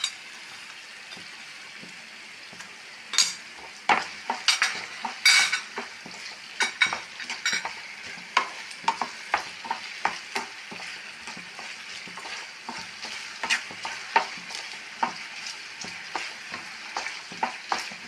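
Green mango pieces with a little salt sauté in a pan, giving a steady sizzle under repeated close scrapes and clinks of a utensil stirring against the metal.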